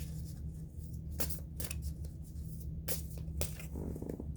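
Tarot cards being shuffled by hand at close range, a series of quick riffling and slapping bursts, some short and some longer, over a low steady background hum.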